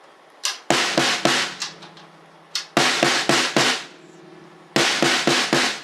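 Freshly tuned drums are struck in quick groups of sharp, punchy hits with a heavy grunge-metal tone, each burst of four or five strokes followed by a short pause, close and loud.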